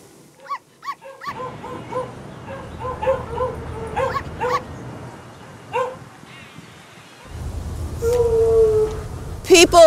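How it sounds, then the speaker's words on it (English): Small dogs in pet shop windows yip, whimper and bark in short bursts, mixed with street noise and a louder rumbling stretch near the end. "How about the little dogs in the pet shop windows scratching for attention?"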